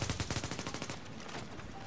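Rapid automatic gunfire from a Call of Duty match, with M4 rifle bursts cracking in quick repeated shots, loud and close at first, then fading into a duller, more distant rattle.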